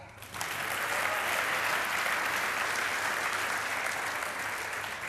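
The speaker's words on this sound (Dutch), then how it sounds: "Applaus." A studio audience at a Frisian television show breaks into steady, loud applause. It starts after a brief lead-in and holds dense and even to the end, with no voices over it.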